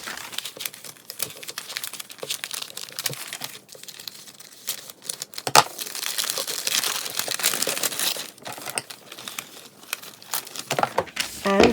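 Wrapping paper from an old present being carefully unfolded and flattened out, with close, continuous crinkling and rustling that rises and falls, alone without talk.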